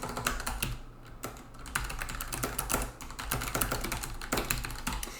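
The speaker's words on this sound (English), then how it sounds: "it is a low-profile mechanical keyboard" Rapid typing on a low-profile mechanical keyboard, a quick run of crisp clacking keystrokes with short pauses, close and fairly loud.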